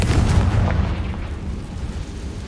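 A Confringo fire spell bursts into a loud, close explosion in Hogwarts Legacy, a heavy booming blast that rumbles and fades over a couple of seconds, with no talking.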